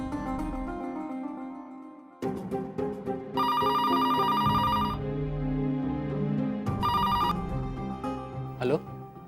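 An office telephone rings loudly in a Hindi television drama, giving bright repeated electronic ring bursts over dramatic background music.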